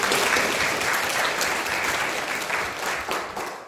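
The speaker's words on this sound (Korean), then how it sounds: "찬송 받으신 하나님께 큰 박수." Congregation in a church service breaks into sustained applause, many hands clapping in a dense, even wash that tapers off slightly at the close.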